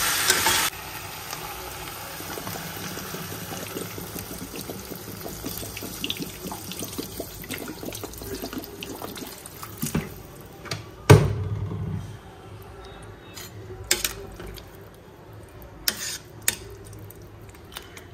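Spiced curry being stirred in a pan with frying sizzle and utensil scrapes, then a splash as water goes in, followed by quieter bubbling and occasional clinks.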